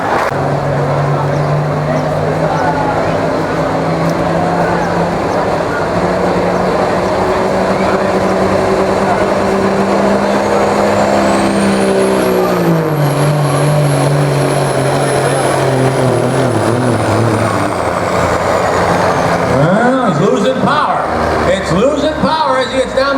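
A diesel truck called Thunder Rolls roars loudly at an open diesel truck pull at the Big Butler Fair, the engine pitch climbing and then dropping as it loses power, with a turbo whine and an announcer talking over it.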